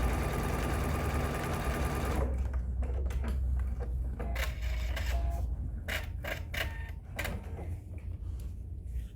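A sewing machine stitches a quarter-inch seam on a star table runner, running continuously for a couple of seconds before giving way to a steady low hum with scattered clicks and taps.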